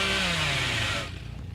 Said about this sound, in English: So if we start revving up this chainsaw.